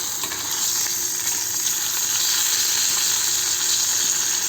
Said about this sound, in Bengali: আরেক পিঠ ভালোভাবে ভাজা হোক।